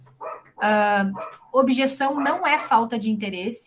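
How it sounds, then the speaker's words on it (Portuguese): A dog barks a few times near the start, sharp and fairly close, before a person keeps talking steadily over it. "Desculpa o latido aí"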